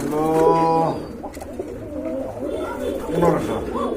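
Pigeons coo in deep, throaty bursts close by at a pigeon sale, with someone talking over and between the calls.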